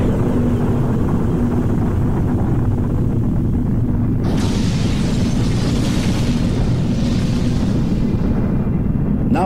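A hydrogen bomb explosion: a dense, sustained low rumble fills the whole stretch, swelling brighter and louder midway like a roaring blast wave, with no voices.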